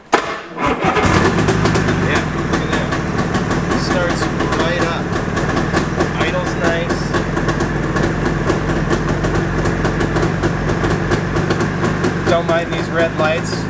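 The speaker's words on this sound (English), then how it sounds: "Let's see if we can get it started." A 1987 Yamaha Exciter 570 snowmobile, abandoned, is cranked and starts, then runs at a loud, steady, close idle for the rest of the clip.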